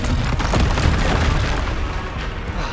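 Repeated fire-curse spell explosions in Hogwarts Legacy on PS5, a loud, continuous stretch of booming blasts and bursts layered over dense game combat noise, with no clear gaps between impacts.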